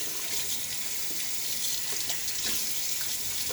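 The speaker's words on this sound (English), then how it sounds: "All right, I'm gonna do a full rinse now." Water running from a sink tap for rinsing after a shave, a steady close splashing flow for the whole moment, no talk.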